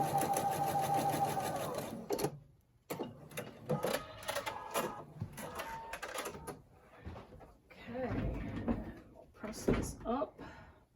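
Domestic sewing machine stitching scrappy quilt pieces together with quarter-inch seams, a steady mechanical whir in short runs broken by pauses and soft handling clatter.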